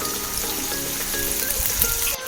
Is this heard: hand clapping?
no